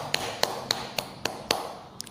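Hand claps or finger taps beating a rhythm for a children's music lesson on strong, medium and weak beats; about seven sharp, evenly spaced hits, close and clear, with the last few quicker and softer.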